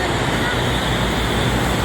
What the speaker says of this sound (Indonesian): angkutan truk barang